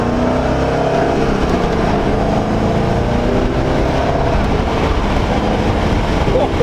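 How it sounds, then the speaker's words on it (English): A C5 Corvette V8 pulls hard from first through fourth gear, a loud, continuous engine roar heard close from inside the car with a steady, full drone throughout. "That was my first real pull out of first all the way to fourth"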